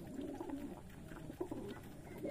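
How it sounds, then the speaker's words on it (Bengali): Racer pigeons coo softly and continuously inside a morning loft, a low murmuring chorus of several birds eager for hand feeding. "সকাল সকাল চলে এলাম আমার কবুতরের ঘরে।"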